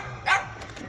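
Dog giving a single short bark near a car, a brief bright yelp over quiet background hiss.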